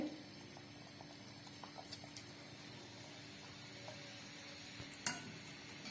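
A pot of anchovy fish curry bubbles at a steady simmer, a continuous soft hiss and burble, with a couple of faint utensil clinks.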